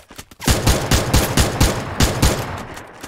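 Loud, close automatic gunfire in steady rapid bursts, each shot punching out with a heavy low thump.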